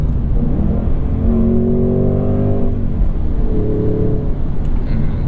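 A 2024 Ford Mustang GT engine revving and pulling hard, its pitch rising and falling through the gears, heard steadily from inside the car with no talking.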